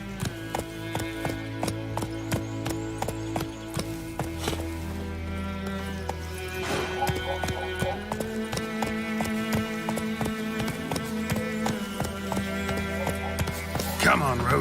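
Roach, the horse in The Witcher 3, gallops with a rapid, driving clatter of hooves that runs throughout at close range, while someone speaks briefly over the hoofbeats and faint game music.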